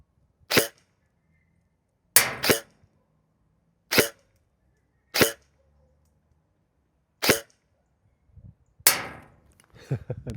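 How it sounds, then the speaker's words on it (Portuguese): Six sharp shots from a Nova Neptune MARSOC airsoft rifle fired at 60 metres, spaced a second or more apart, each a crisp snap followed by silence, with faint rustling at the end. "Dois disparos a 60 metros."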